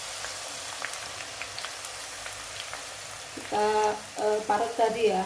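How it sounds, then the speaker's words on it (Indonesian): Grated potatoes fry in hot oil for a Lombok-style nasi balap, with a steady low sizzle that briefly swells louder and busier near the end while someone talks over it. "Sekarang kita akan menggoreng kentang yang telah kita"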